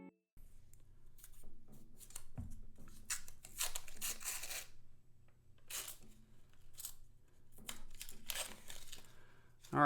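Paper rolls of half dollar coins being torn open, bursts of crinkling and ripping paper with scattered rustles and faint clinks over quiet room tone, close to the microphone.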